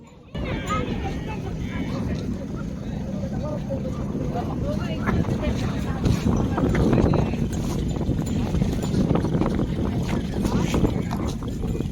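Horse hooves clip-clop on beach sand during a horse ride at Alsaif Beach in Jeddah, a steady rhythmic patter mixed with wind and surf noise, with people talking over it throughout.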